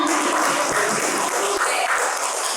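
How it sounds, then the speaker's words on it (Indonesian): A seated audience at an Indonesian school dissemination session applauds for a guest, a dense, steady clatter of many hands clapping without pause across the whole stretch. "tepuk tangan untuk Pak Gungun"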